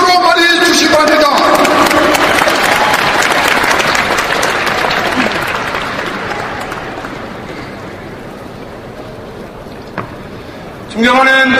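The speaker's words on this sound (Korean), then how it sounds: "모두 뜨거운 박수로 맞이해 주시기 바랍니다." Loud crowd applause from party delegates at a Korean political party leadership convention, welcoming a candidate to the podium; a voice over a loudspeaker opens the clip, clapping gradually fades, then the candidate starts speaking at the end.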